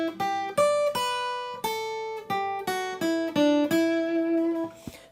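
An acoustic guitar picks a song's lead line as a melody of about a dozen clearly plucked notes in an even, unhurried rhythm, each ringing briefly before the next, close and solo with no talking.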